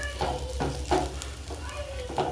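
Rice fries in a pan for a home-cooked dal chawal meal, a soft steady sizzle broken by a few scraping stirs of a spoon against the pan.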